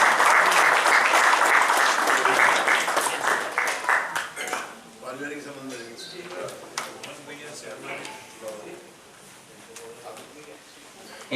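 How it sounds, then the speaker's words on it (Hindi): Loud crowd applause at an award function fills the first few seconds, then thins into scattered claps and fades as a voice speaks over the tail. "आपके लिए तालियां बजने वाली है"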